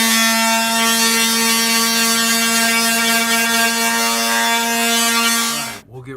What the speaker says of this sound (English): So now we will palm sand this real quick